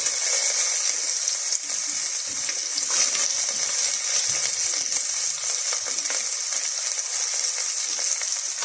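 Onions frying in olive oil for garden artichoke soup, a loud, bright, continuous sizzle close to the pan, holding steady throughout with no voices.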